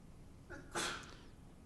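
A single sneeze is heard in a quiet classroom during a lecture about vectors, faint and fairly distant, a short sharp burst preceded by a soft intake of breath.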